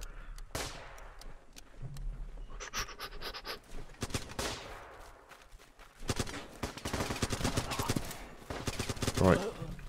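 Gunfire in the Running With Rifles battle game crackles in scattered bursts and volleys, some near and sharp and others distant, with a brief loud burst near the end and faint voice sounds underneath.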